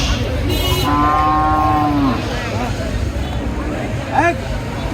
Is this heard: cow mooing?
yes